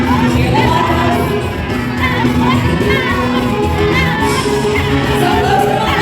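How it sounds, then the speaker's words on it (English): A crowd of children and adults cheers loudly and continuously at a horse-themed team race at the Canadian National Exhibition in Toronto, a dense wash of shouts, whoops and yells close by. "Cheer them on, guys."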